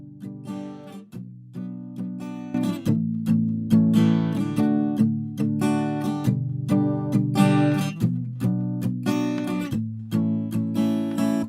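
A guitar strums a rhythmic chord progression, steady and close, each strum ringing into the next, with no voice.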